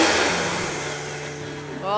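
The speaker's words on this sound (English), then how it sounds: "Then we add ginger, some clam juice, white soy sauce, and soy lecithin to a blender and blend away." A blender whirs through ginger, clam juice, white soy sauce and soy lecithin, a steady loud motor drone with churning liquid that holds for the full two seconds, rising slightly in pitch near the end.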